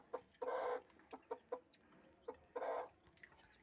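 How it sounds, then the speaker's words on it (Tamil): A black hen with newly hatched chicks clucks in a few short bursts, with two longer louder calls and soft peeps between, close by and alone. "அவள் குஞ்சு பொறிச்சிருக்கா பாருங்கள்"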